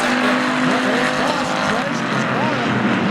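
Hobby Stock race cars lapping a dirt oval at RPM Speedway during IMCA Fall Nationals heats, engines droning steadily and loud under continuous announcer commentary.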